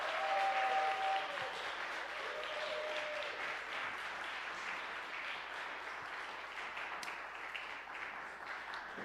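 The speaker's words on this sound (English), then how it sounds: "give him a big round of applause." An audience at a Baptist church fireside book talk breaks into warm applause, dense and full at the start and tapering slightly over several seconds, with faint voices in the crowd.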